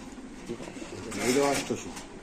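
Grizzle pigeons at a bird market give a soft, brief coo in the middle of faint market noise and background murmur.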